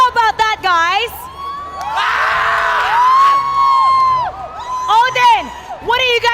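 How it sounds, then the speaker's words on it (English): A loud esports arena crowd at the M5 World Championship knockout stage cheers and shouts in a cheer-off, with sustained roaring swells and whoops while an amplified announcer's voice rises and falls over it. "we're gonna settle this with a cheer off"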